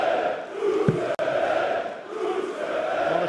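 A darts crowd at the Dutch Dart Masters roars continuously, a broad sustained wall of cheering with swelling waves, a brief sharp dropout around the middle, and no clear speech.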